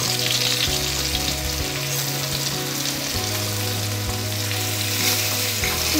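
Vegetables fry on a hot tawa with a loud, continuous close sizzle, while a spatula stirs and tosses them in shifting scraping bursts.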